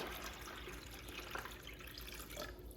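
Water pours steadily into a Magic Chef countertop ice maker inside an RV, a soft continuous trickle and splash that holds at an even, faint level with no voices.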